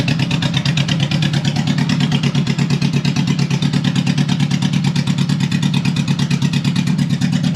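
A 1975 Honda Goldwing engine, run after 41 years of sitting with one side missing its muffler, idles with a loud, fast, steady pulsing beat and a clattery rattle, close up with no voices.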